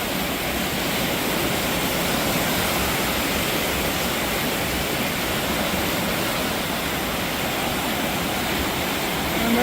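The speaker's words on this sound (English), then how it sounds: "There's so much muddy water flying down through here." Loud, steady roar of fast-rushing muddy creek water, a dense continuous torrent filling the whole clip with no letup.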